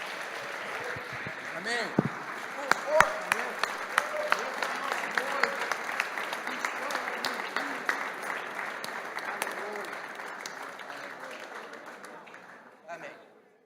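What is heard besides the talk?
congregation applause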